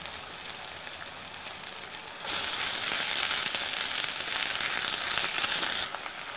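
Agathi spinach leaves hit a hot pan of sautéed onions and curry leaves, setting off a sudden loud crackling sizzle that holds steady for several seconds after a quieter lead-in, then drops away.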